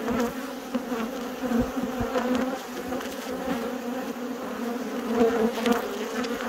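A steady, dense buzzing of many bees close by on Dartmoor, continuous and moderately loud, with occasional soft knocks.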